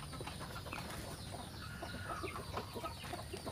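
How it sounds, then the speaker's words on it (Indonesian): Chickens cluck in a coop where one bird suffers from a snoring respiratory condition, the clucks and rattly calls repeating close by over constant background noise. "salah satu ayam yang ada di kandang saya yang mengalami ngorok"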